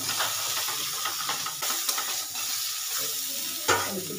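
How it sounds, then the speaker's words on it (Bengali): Flat beans fry lightly in a pan with a soft, continuous sizzle and hiss, broken by intermittent stirring scrapes and a sharper knock near the end, fairly quiet and close, with no voices. "দিয়ে হালকা করে শিমটাকে ভাজা করে নেব"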